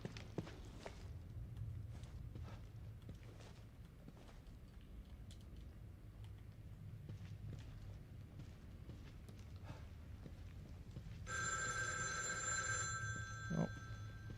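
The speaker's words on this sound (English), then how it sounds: "Phone call." A telephone rings in The Evil Within 2, a bright electronic trill starting late and running about two seconds over quiet ambient game noise and soft footsteps.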